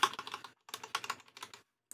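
Plastic keys on a Blackmagic Resolve Speed Editor keyboard pressed in quick bursts of clicks and clacks, close up, with short silent gaps between runs.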